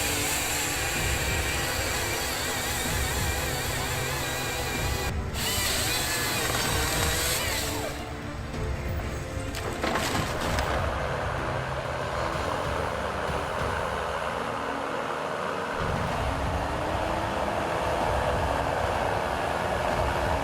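A Valmont 840.3 tracked forestry machine works in wet, muddy jungle terrain among rocks and tree stumps, its heavy engine and machinery rumbling loudly and steadily throughout, with clanking mechanical noise and a brief shift in tone midway.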